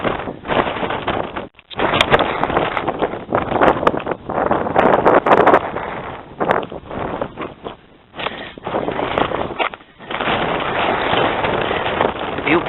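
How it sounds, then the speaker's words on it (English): Strong gusts buffet the microphone on an exposed hill summit at The Wrekin, a loud, uneven roar that swells and drops in waves with brief lulls, while a person talks beneath it. "the wind has picked up quite a bit on this exposed summit"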